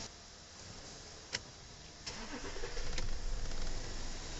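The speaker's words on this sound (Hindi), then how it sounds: "कार अपना स्टार्ट हो गया।" A Porsche Cayenne 3.0L TDI diesel with a faulty fuel injector and misfire cranks with a couple of sharp clicks, then catches and settles into a steady, close engine rumble.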